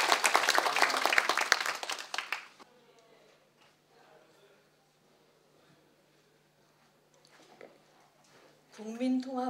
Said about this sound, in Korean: 함께 소개해드리면서 박수하겠습니다